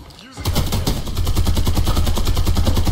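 Rapid bursts of automatic gunfire in a first-person shooter video game, loud and sustained, rattling in quick repeated volleys from close range, with game voice lines and in-game sounds layered in.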